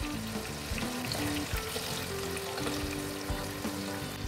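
Corn kernels fry in very hot oil in a pan over medium flame for a crispy snack, giving a steady, close, crackling sizzle with scattered pops and no voices.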